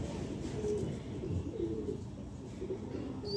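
Pigeons coo softly and steadily nearby, low murmuring calls repeating over a quiet background without talk.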